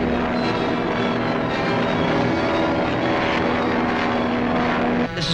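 A propeller airplane engine drones steadily in flight, loud and continuous with a constant pitch, heard alone without voices, in a 1941 adventure serial setting.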